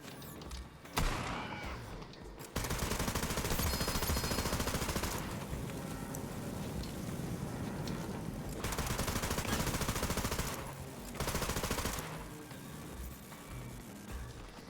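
Sustained automatic gunfire from a fire elemental gun in Borderlands 3, played as Moze, dense rapid bursts running loud and continuous for long stretches with brief pauses between volleys.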